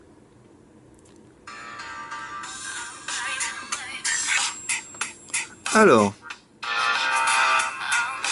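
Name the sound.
A song played on Iocean X7 Elite phone speaker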